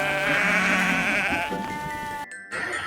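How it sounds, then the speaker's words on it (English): A sheep bleats loudly and close, a wavering sustained cry lasting about two seconds before cutting off abruptly. "mommy sheep, baby lamb."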